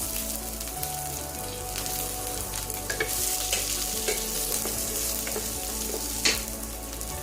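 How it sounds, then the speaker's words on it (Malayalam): Dried red chillies and curry leaves crackle and sizzle in hot oil in a frying pan for a ridge gourd side dish, a steady close frying hiss with occasional sharper pops and stirring. "ഇനി വറ്റൽമുളകും വേപ്പിലയും ചേർക്കാം."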